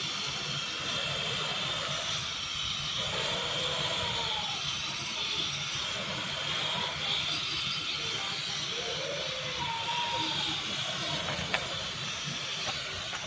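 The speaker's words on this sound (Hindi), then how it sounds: "ये कढ़ाई के अंदर जो मिट्टी का तेल है उसमें आग लग गई है।" Kerosene burning inside a wok of saltpeter on a stove, a steady loud roaring hiss of flame that persists throughout, with faint voices in the background.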